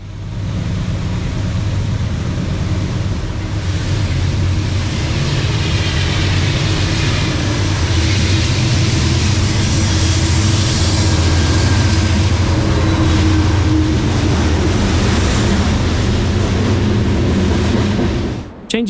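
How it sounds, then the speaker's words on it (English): Loaded stone freight train P&W CT2 led by GE B39 locomotives roars past northbound toward Danbury, a loud, steady, close rumble of engines and rolling wagons that holds for the whole stretch before cutting off abruptly. "Loaded stone train P&W CT2 roars northbound towards Danbury."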